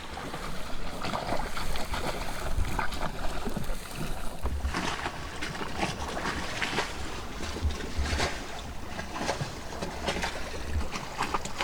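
Steady wind and water rush aboard a sailboat under sail in stronger-than-expected wind, a continuous close roar of sloshing waves and gusts that fills the whole stretch with no talk.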